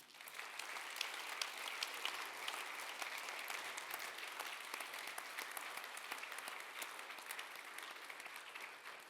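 Steady applause from a crowd at a refugee convention event in Geneva, dense clapping at an even level throughout with no pauses.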